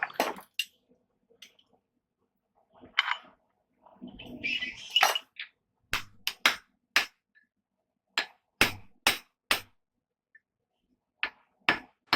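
Hammer blows on hot steel while forging a blacksmith's cross peen hammer, punching an indent for a touch mark; a string of sharp, separate metallic strikes, close and loud, in irregular bursts, with some softer scraping between.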